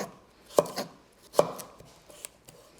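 A knife chops through a seeded vegetable, cutting it into little strips on a cutting board. Two sharp, close cuts land about a second apart, followed by a few fainter taps, with no talking.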